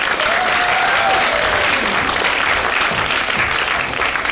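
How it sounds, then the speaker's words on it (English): An improv cafe audience at a 2016 community event breaks into loud, sustained applause, dense clapping filling the room from start to finish with a few cheers mixed in. "a round of applause for Teacher Feature"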